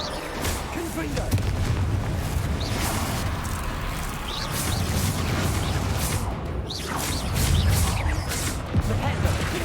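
Rumbling blasts and crashing bursts from the Confringo blasting spell in the Hogwarts Legacy video game roll on continuously for several seconds, with swooshes layered over a steady low boom.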